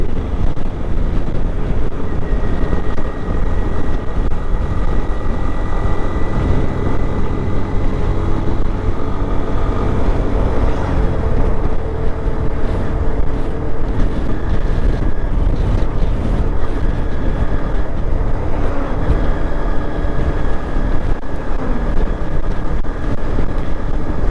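A Honda motorcycle rides along the road toward Cox's Bazar, a continuous engine drone mixed with heavy wind rush buffeting the microphone throughout, with no talk.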